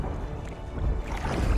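A small rowboat rocks on swelling waves, heard as a low, surging wash of water that builds slightly louder over a short stretch.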